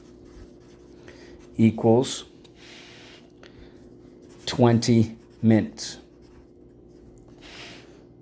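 A pencil scratching across paper while working through a fraction math problem, soft close scribbling strokes running beneath intermittent spoken explanation.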